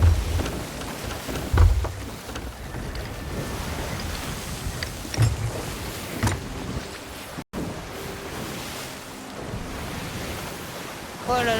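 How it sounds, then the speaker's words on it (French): Stormy sea in the pirate game Sea of Thieves, with heavy rain, wind and crashing waves forming a loud continuous roar, punctuated by low thunder rumbles and brief surges. "Oh là là, c'était la grosse tempête hein."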